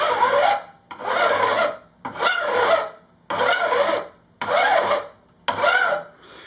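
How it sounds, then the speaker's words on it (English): A metal file rasps across guitar fret wire during a refret, held at a skewed angle, in six steady strokes of about a second each with short pauses between, close and fairly loud with no talking. "The reason I'm keeping the file a little skewed this way, rather than filing straight on"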